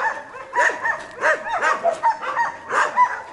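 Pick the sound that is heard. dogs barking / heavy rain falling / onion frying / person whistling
dogs barking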